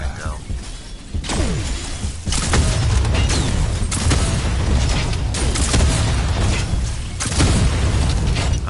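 A volley of missiles fired in the video game Paragon, a dense run of loud booming blasts and shattering impacts packed close together over several seconds, with a few sharp bursts standing out.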